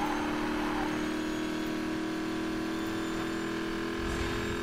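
Race car engines in the Need for Speed Payback video game drone steadily from behind the player, a constant mid-pitched roar with no speech over it.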